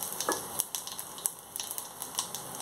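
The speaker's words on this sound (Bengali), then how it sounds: "তেলটা একটু গরম হলে জিরে শুকনো লঙ্কা ফোড়ন দেব" Cumin seeds and whole dried red chillies sizzle in hot oil in a kadai on a gas stove, a steady crackling hiss broken by sharp pops and spits, close and alone.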